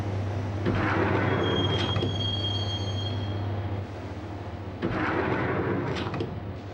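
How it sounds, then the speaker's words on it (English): A train ride toward Roscoe Street Station in the video game Max Payne, with a loud, steady rumble of rolling carriages, a thin wheel squeal, and heavy clanks and bumps now and then. No one speaks. "the train doors had already shut behind me, and I was in for the ride"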